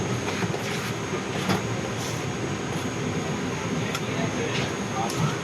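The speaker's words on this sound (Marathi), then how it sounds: "ट्रेन सुटलेली आहे" A passenger train pulls out on the way back to Mumbai from Goa, its steady rumble and rattle running continuously beneath nearby passenger chatter.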